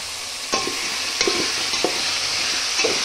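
Pulao base frying in oil with coriander added, a steady broadband sizzle with several sharp stirring scrapes of a spoon against the pan, close and alone without talk.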